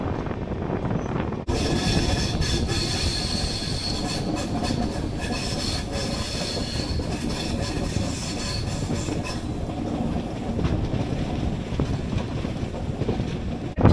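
The 13149 Kanchankanya Express runs through jungle, its carriages giving a loud, steady rumble and clatter of wheels on track with wind rushing past, heard close from on board and without talk.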